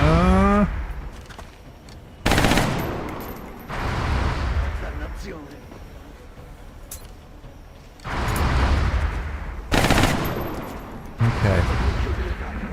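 Gunshots in the turn-based strategy game XCOM Long War: several sharp, loud reports stand out in separate bursts against quieter game ambience, some followed by mechanical clatter.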